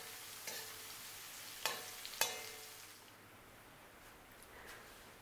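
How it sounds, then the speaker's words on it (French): Shallot and garlic pieces frying in vegetable oil over high heat in a wok, a soft sizzle with a few sharp utensil clinks early on, the frying quieting to a faint hiss in the second half. "faisons frire les morceaux d'échalote et d'ail dans de l'huile végétale chauffée à feu vif"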